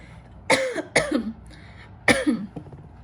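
Three sharp coughs, the first two close together and a third after a short pause, loud and close with no talking.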